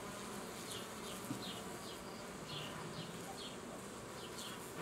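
Honeybees hum and buzz steadily at an open hive during a mite treatment. Individual bees drone past in a continuous, quiet swarm texture with no voices.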